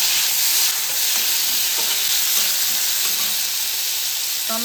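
Chopped tomato sizzles loudly in a pan with garlic, green chili and peanuts, a constant bright frying hiss with light stirring taps.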